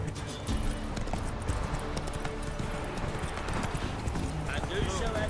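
Roach the horse galloping in The Witcher 3, hooves clip-clopping in a fast continuous rhythm, close and prominent, with voices talking over it.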